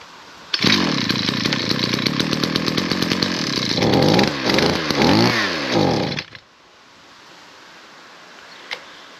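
A 2013 ECHO SRM-350ES brushcutter engine starts and runs loud and close for about six seconds, rising and falling in pitch with throttle blips before cutting out, leaving quiet background.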